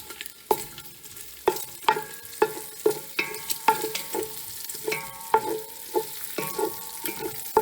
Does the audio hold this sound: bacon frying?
yes